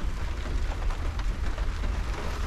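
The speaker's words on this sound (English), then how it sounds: "So we'll just have to see if this rain stops." Rain drumming steadily on a van roof at Paull on the East Coast during a sea fishing trip, a close, dense, unbroken patter and low rumble with no voices.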